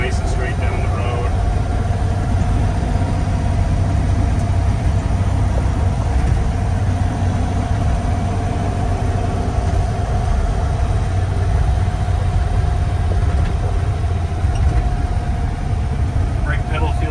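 A 1951 GMC 3100 pickup truck's engine drones steadily while driving down the road, a constant mid-low rumble with road noise running throughout at close, even loudness.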